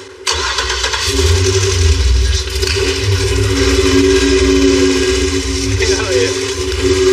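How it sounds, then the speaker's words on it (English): A custom Cadillac with a roughly 1,000-horsepower engine and newly replaced valve covers cranks and catches almost at once, then holds a loud, steady rumble for several seconds, with voices faintly underneath. "That engine sounds so bad."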